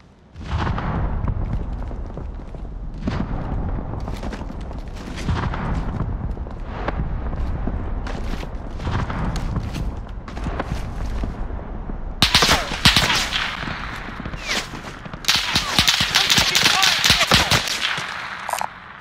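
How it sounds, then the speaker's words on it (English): Gunfire in the Call of Duty Warzone video game: scattered single shots and short bursts, then dense, loud automatic fire and heavy bursts in the later part, close and sharp. "taking fire!"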